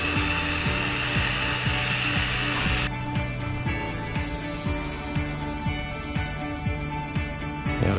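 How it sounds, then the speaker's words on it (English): A small power drill whirs steadily up close with a rapid rhythmic grinding pulse, its pitch shifting slightly partway through, as it drills a hole in a model airplane's control horn. "I will have to drill out a hole on my control horn here just to fit the control rod there."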